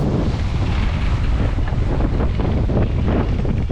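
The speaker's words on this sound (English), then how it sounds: "Finally getting some wind, boys." Strong wind buffeting a sailboat running downwind off the Greek islands near Kos, a loud, constant roar with rushing water beneath it and no talking.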